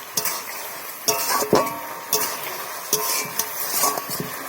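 Mushroom chilli with cumin and pepper powder sizzles gently in a pan while a spatula scrapes and clinks against the metal in repeated strokes, close and clear, with no talking.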